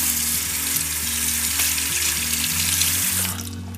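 Running tap water splashes steadily into a sink while a makeup brush is rinsed, the flow loud and close for several seconds before easing off near the end.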